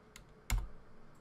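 A few quiet keystrokes on a computer keyboard, with one sharper click in the middle and fainter taps around it, close and isolated in a brief burst.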